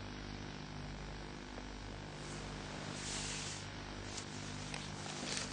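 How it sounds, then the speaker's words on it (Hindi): Helicopter readying for takeoff at the Goa naval base, a continuous droning engine and rotor hum at a distance, steady and fairly faint, with slight swells of wind noise. "हेलीकॉप्टर फिलहाल उड़ान भरने के लिए तैयार है।"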